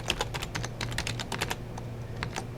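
Fingers tap out a password on a computer keyboard in a quick, uneven run of crisp close keystrokes with short pauses.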